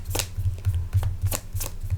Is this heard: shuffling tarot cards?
yes